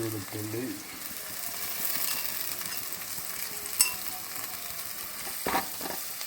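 Onion, ginger and garlic fry in a pan, a continuous soft sizzle with stirring and occasional scrapes and clicks of a utensil against the pan, a voice briefly heard at the start.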